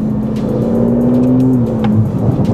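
An Aston Martin DBS Superleggera V12 engine driven on paddle shifters gives a loud, close, sustained growl that climbs in pitch, then drops briefly at a gear change before carrying on.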